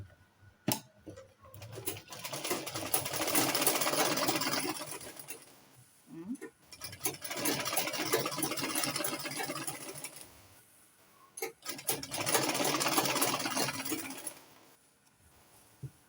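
A sewing machine stitches fabric for a smocking-waist A-line dress, running in three steady, close bursts of rapid whirring, each lasting a few seconds, with brief pauses and small clicks between them.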